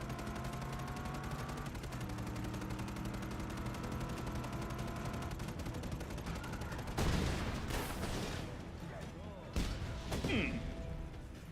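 Rapid, continuous gunfire from an infinite-ammo gun in Just Cause 3, with bursts of shots and crashes layered over dense game music and effects, sustained and loud throughout.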